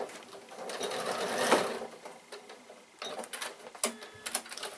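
A sewing machine stitching the side seam of a fabric bag, a whirring run that swells and fades, followed by short bursts of stitching and clicks, close by.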